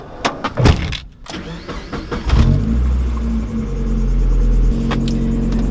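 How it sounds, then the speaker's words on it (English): A Mazda Miata pulls away with a rumbling engine and exhaust, a few sharp knocks and rattles up front, then a steady low drone and whine building close inside the cabin. "I'm gonna take you guys on a little spin in the Miata so you guys can hear all the mess I hear."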